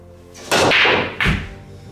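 A 9-ball break shot with draw from a wooden rack: a loud cue-ball strike followed by a clattering burst of pool balls scattering, with a second sharp knock a moment later, heard alone and close.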